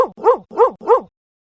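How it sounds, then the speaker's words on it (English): A dog barks four times in quick, evenly spaced yaps, close and clear, then falls silent. "Now let's listen to dog sound."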